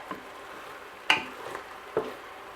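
Tomatoes sauté in a pan with a soft, quiet sizzle, punctuated by a couple of light clinks or scrapes of a utensil against the pan.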